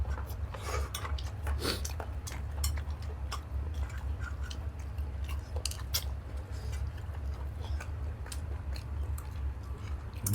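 Someone chews tough, sticky food during a Thai meal of pork larb and boiled chicken, with steady close mouth sounds and occasional clicks and utensil taps over a low background hum.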